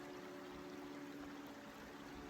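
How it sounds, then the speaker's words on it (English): Trickling water in a mountain valley at sunset, a faint, steady wash of running water that continues unbroken with no voices. "We've got the beautiful sound of trickling water to listen to"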